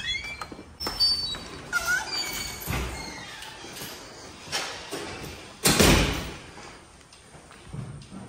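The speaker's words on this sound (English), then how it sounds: "Let me get the door for you." A glass entrance door at a Sacramento post office opens and shuts, with a couple of firm thuds and a swishing close standing out over light background ambience.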